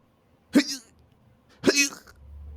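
Two short, harsh coughs about a second apart, close and fairly loud, with quiet between them.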